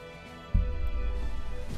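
A phone alarm starts playing a song, a sustained musical tone that begins abruptly and holds at a moderate level, with no talking.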